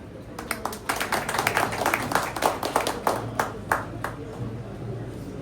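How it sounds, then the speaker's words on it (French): Scattered hands clap in a modest round of applause at an official municipal commission installation ceremony in Côtes-de-Fer, brisk and uneven, with a faint murmur of voices beneath. "veuillez les applaudir chaudement,"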